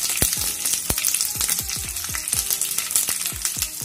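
Mustard seeds, curry leaves and asafoetida crackle in hot oil for a vada pav tempering, close and busy, with sharp popping bursts scattered irregularly over a continuous hiss.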